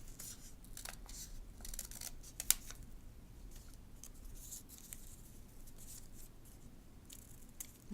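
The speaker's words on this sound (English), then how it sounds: "I'm going to use this little extra bit to cut some simple leaves." Scissors snipping simple leaf shapes out of leftover punched paper, a series of soft, quiet, close-up cuts and rustles over low background hiss, with no voices.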